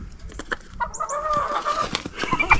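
A rooster clucks and makes short throaty calls close by, with a few higher squawks mixed in, over faint outdoor background noise.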